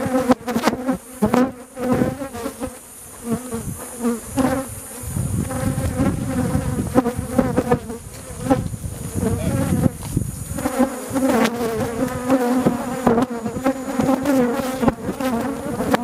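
Angry bees swarming as a traditional hive is harvested from a tree without a smoker, a loud, dense, continuous buzzing that rises and falls and stays close throughout.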